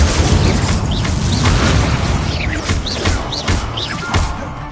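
An Incendio fire spell goes off in a Hogwarts video game, loud whooshing bursts and booms repeating several times, with short rising whistle-like flourishes threaded between the blasts.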